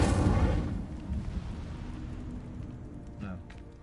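In the Hogwarts Legacy video game on PS5, an Incendio fire spell goes off as a loud, close fiery burst that rolls into a roaring rumble and fades over a few seconds.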